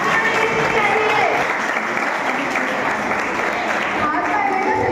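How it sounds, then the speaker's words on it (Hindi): An audience claps loudly and steadily at a school farewell party for class 10, with voices mixed into the sustained applause. "दुनिया में सबका एक ही काम है, तालियां बजानी चाहिए।"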